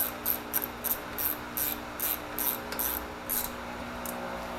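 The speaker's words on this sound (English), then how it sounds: "Try and tighten them evenly." A hand ratchet tightens 12 mm rear brake bolts on a Warrior, giving a quick run of short metallic clicks in evenly spaced bursts, close and crisp, with no speech.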